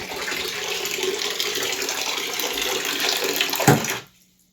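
Water runs steadily from a tap for about four seconds, a continuous close splashing rush, then cuts off abruptly into silence.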